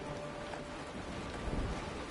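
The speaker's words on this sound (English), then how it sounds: "It's raining." Rain and thunder in the video game Honkai: Star Rail, a steady hiss of heavy rainfall with a low rumble of thunder swelling near the end, with no talking.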